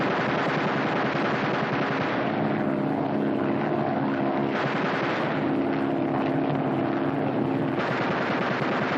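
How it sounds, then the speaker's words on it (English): Rapid machine-gun fire in repeated bursts from aerial gunners aboard a 1943 aircraft, loud and harsh, over a steady droning engine hum. "Fire 3 bursts each in rotation."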